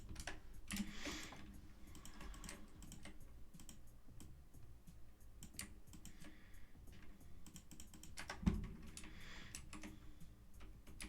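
Computer keyboard typing during a Minecraft modded survival session, a steady run of quick clicky keystrokes with short pauses and one sharper thump, fairly close and quiet, no talking.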